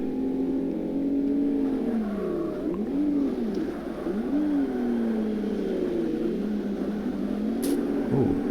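A Mitsubishi Lancer in Forza Motorsport drones along with its engine pitch rising and falling as it revs through gear changes, holding a steady, moderately loud tone throughout.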